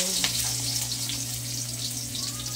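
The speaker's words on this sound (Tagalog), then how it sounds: "magluto na naman ako ng gulay" Vegetables fry in a pan with a steady, close sizzle and crackle, light stirring and scraping sounds over a constant low hum, no talk.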